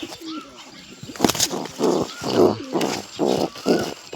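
Pigeons coo near their chicks in a nest, a loud, close, rhythmic run of deep throaty coos repeating in pulses, with a brief rustle of movement partway through.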